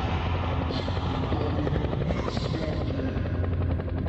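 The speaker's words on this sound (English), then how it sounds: "Helicopter toilets." Loud, steady helicopter rotor whir from the Skibidi Toilet animation, where toilets with helicopter rotors fly in, droning continuously with a faint buzzing edge.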